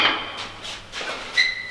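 Four sharp metallic hammer strikes on a metal exhaust manifold ring out in quick succession, each with a brief bright ringing tail.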